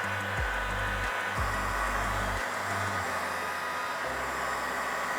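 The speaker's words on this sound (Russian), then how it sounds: "теперь беру строительный фен и делаю при помощи него местами мелкие трещинки" A heat gun blows on wall plaster with a steady, loud rushing hiss, its motor hum stepping between settings a few times.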